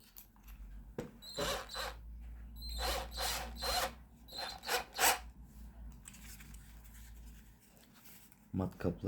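Short bursts of a small drill whirring through cardboard in repeated spurts, close by, with brief pauses between, ending in a few quick rattling knocks.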